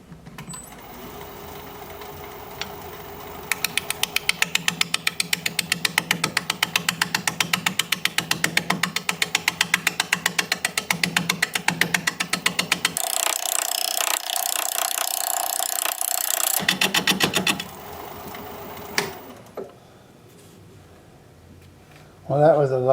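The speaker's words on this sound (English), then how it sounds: "5/8 inch bowl gouge, mask and face shield on." A wood lathe turns a hazelnut bowl at about 460 RPM while a 5/8 inch bowl gouge cuts it, giving a steady rapid chatter and a continuous hum. The noise changes tone midway, then stops near the end.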